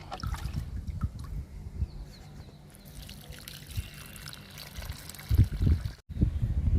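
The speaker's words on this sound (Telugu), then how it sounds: "స్పైడర్ లిల్లీ అండి, ఈ మొక్క కూడా ఇచ్చేద్దాము లిక్విడ్." Liquid fertilizer splashes and trickles onto a potted spider lily, a close wet gurgle that fades to a soft dribble, then returns in heavier low splashes after a brief silent break.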